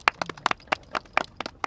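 An audience claps to welcome a speaker to the podium, a sparse scatter of sharp individual claps at moderate volume, with no speech.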